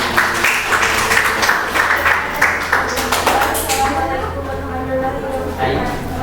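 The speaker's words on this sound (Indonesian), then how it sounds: "Terima kasih, tepuk tangan." Classroom applause after a biology problem-based-learning presentation: a dense patter of many hands clapping for several seconds, then thinning out as a voice begins talking over it.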